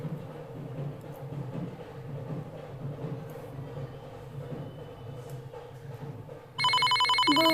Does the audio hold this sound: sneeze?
no